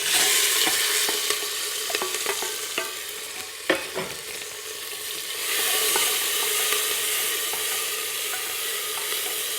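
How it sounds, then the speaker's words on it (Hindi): Tomatoes and chili sizzle steadily in a hot pan with ginger paste, cumin and coriander while a spoon scrapes and stirs, giving several sharp clinks near the start before a loud, even frying hiss carries on alone. "तुरंत हम ये टमाटर और मिर्च डाल देंगे।"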